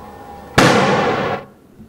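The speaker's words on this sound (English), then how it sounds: "This is the 2 meters of detonating cord." Two meters of detonating cord exploding in a quarry: one sharp, loud blast with a rushing roar that lasts close to a second and then cuts off abruptly.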